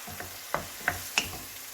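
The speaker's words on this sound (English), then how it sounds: "Whenever you're frying prawns, you always get water coming out of it" Steady sizzling of prawns frying in a pan, with a few sharp clicks and scrapes as they are stirred, close by.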